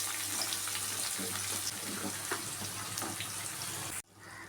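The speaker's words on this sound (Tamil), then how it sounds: "இப்போ வெங்காயத்தை போட்டு வதக்கணும் சின்ன வெங்காயமும் சேர்த்து ஒன்றா வதக்கணும்" Chopped onions and small shallots frying in hot oil in a pan with cumin and fennel seeds, a steady dense sizzle running throughout before cutting off abruptly near the end.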